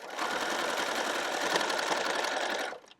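A sewing machine stitches thread through a canvas tote bag panel, running in one steady, close, fast whir for almost three seconds before stopping abruptly, with no talking.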